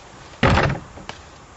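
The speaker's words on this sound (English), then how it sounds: "It's a pool door. I knew that. I was just kicking it for dramatic effect." Pool door kicked once, a loud, sharp impact followed by a short rattle and a faint second knock, heard alone against quiet background.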